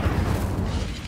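A burst of Incendio fire spell in Hogwarts Legacy, a steady low roaring whoosh of flame lasting about a second, loud and close with no voices over it.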